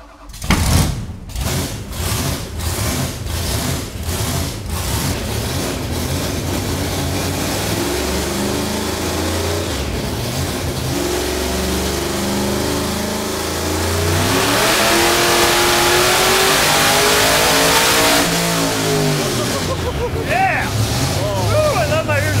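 The car Blasphemi roars on a dyno with its engine revving hard and continuously, a loud, dense, rising and falling drone with rumbling vibration throughout, up close.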